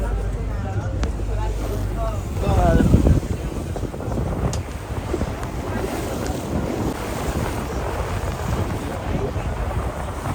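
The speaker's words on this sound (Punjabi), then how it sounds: "ਆਪਾਂ ਬੋਤ ਚ ਬੈਠੇ ਆ" A boat ride along a Venice canal, with strong wind buffeting the microphone, water sloshing, and a boat engine rumbling low throughout, while people talk and a louder rustle swells briefly.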